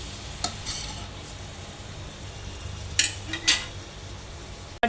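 Egg and tomato frying in a pan are stirred with a utensil, giving a steady soft sizzle with a few sharp scrapes and clinks against the pan.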